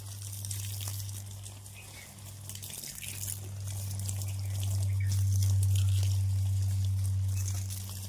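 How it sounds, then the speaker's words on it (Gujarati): Water runs steadily from a tap in a continuous rushing hiss, with a low electrical hum underneath throughout. "પપ્પાએ પાણી ચાલુ કર્યું છે"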